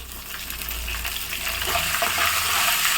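Curry leaves hit hot oil and fry with a loud, steady crackling sizzle that swells and grows denser over a few seconds, close up with no voices.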